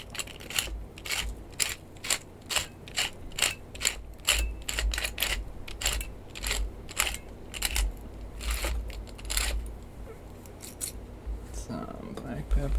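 A hand pepper grinder cracks black pepper in a steady series of sharp ratcheting crunches, close by, with speech in the background.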